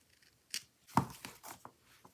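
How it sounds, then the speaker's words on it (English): Scissors snip through sticker sheets sticking out of an Erin Condren daily petite planner: a few quiet, close, short cuts spread over a couple of seconds. "I have like stickers sticking out and I just want to cut it."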